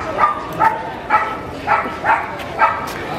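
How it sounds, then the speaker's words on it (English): Dogs on a back street in Havana, Cuba, give about six short, yipping barks in an uneven rhythm, fairly close over a soft street background. "We got a couple dogs doing a little sightseeing themselves."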